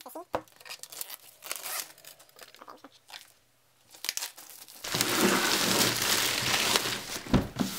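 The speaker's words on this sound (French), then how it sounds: "Il y a juste à retirer le film plastique." Plastic shrink film torn and peeled off a MacBook Pro box in a quiet room, scattered crinkles giving way to a long, loud, continuous tearing rush.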